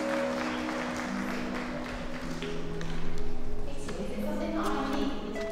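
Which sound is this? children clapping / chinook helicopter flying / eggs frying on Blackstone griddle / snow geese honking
children clapping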